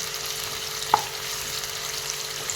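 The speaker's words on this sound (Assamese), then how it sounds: "প্ৰথমতে পিঁয়াজখিনি মই ৰংচঙীয়া কৰি ল'ম।" Onions fry in a pan with whole spices, cloves, cardamom and cinnamon, in a continuous close sizzle, with a single sharp clink from a utensil partway through.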